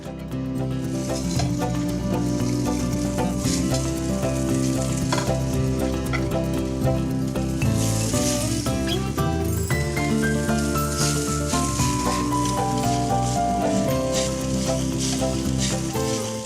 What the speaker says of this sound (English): we are ready to sear the shrimps